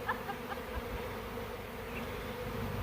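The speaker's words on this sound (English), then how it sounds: "A swarm is landing right now." A honey bee swarm settles into trees, a dense continuous buzzing drone from many insects, steady and fairly close with no voices.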